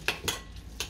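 Utensil scraping and knocking against a bowl while mixing a coconut milk and fruit sushi preparation, three sharp clinks spaced irregularly over a quiet background.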